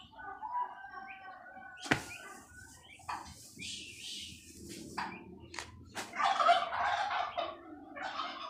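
Turkeys gobbling among turkey poults on a farm: repeated bubbling gobbles near and at middle distance, with a sharp knock, scattered chirps, and a louder cluster of gobbles toward the end.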